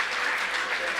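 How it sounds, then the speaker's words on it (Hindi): A crowd in a hall at a Hindi poetry recital claps continuously in a dense, even burst of applause for about a second. "बजाओ सारा सदन एक बार हाथ खड़े करके ताली साहब"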